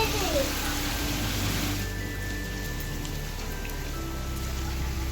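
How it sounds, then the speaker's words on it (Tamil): Heavy rain falls outside in a steady, dense hiss that fills the whole stretch, with voices faintly audible in the background. "வெளியில் நல்லா மழை பெஞ்சிட்டு இருந்தது"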